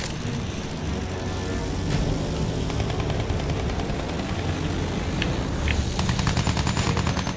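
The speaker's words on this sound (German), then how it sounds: "Feindliches Flugzeug gesichtet." Battlefield 1 combat with enemy aircraft roaring overhead and sustained machine-gun fire, a dense continuous din of rapid gunfire bursts layered over engine drone throughout.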